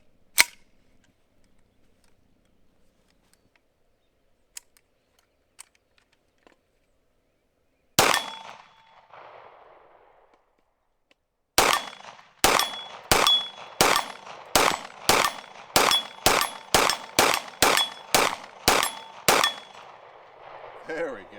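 A Foxtrot Mike FM45 fires Norma ammunition in a loud single shot, then after a pause a rapid string of about fifteen sharp, evenly spaced gunshots with metallic clanks, close by.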